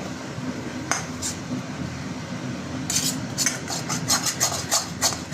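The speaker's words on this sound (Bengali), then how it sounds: "এবার এটা আমি ঢেলে নিচ্ছি এই বাটিটার মধ্যে।" A cooked papaya dish is scraped out of a cooking pan into a bowl, with a spoon making quiet rasping scrapes and a cluster of sharp metallic clinks toward the end.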